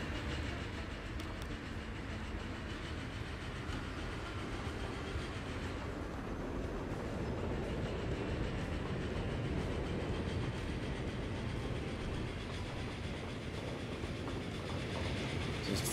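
Freight locomotive and train running in the video game Transport Fever 2: a steady, even rumble of rolling wagons that holds at the same level throughout, with no voices.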